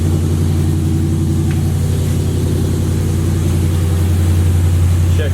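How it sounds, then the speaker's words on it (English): Supercharged Ram truck engine idling steadily after starting, a loud, constant low rumble with a throbbing pulse that holds evenly throughout without revs. "The truck is now running"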